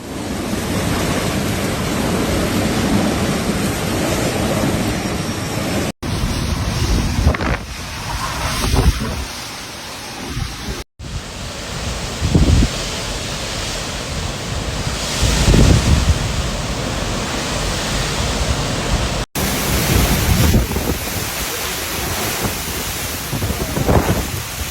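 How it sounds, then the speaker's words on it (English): Category 3 cyclone Garance lashing La Réunion island with gusts up to 200 km/h: a loud, continuous roar of wind and driving rain with heavy bursts and crashes, in several cut-together stretches. "a Category 3 cyclone carrying gusts of up to 200 km per hour winds"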